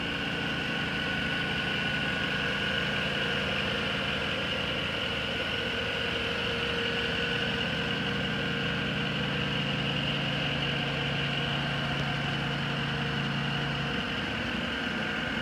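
The 5.3-litre gas V8 engine of a 2011 Chevrolet Silverado 1500 Z71 pickup idles with an even low rumble and a constant mid-range hum, unchanging and close for the whole stretch, with no voices.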